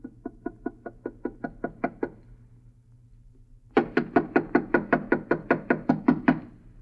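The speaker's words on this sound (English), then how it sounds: "Knock harder, Alice." Knuckles rap on the door of a house in two bursts, first about nine light evenly spaced knocks, then after a pause a louder faster run of about fourteen harder knocks, over a low background hum.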